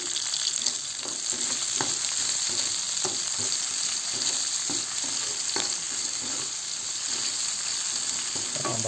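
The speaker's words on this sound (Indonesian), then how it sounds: "Tumis sampai harum dan matang." Long beans, tempeh and anchovies stir-fried in a pan, with a constant loud sizzle and occasional scraping stirs of a spatula, close up and free of speech.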